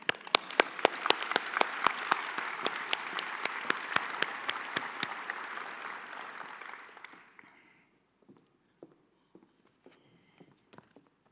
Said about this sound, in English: So Tom, I'm going to lead the applause for your fellowship